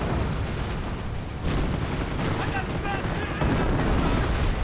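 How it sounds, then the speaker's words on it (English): Incendiary mortar fire on anti-tank guns in Company of Heroes, a thick rolling din of blasts and battlefield gunfire that carries steadily throughout, with a commentator talking over it. "Incendiary mortar on one AT guns."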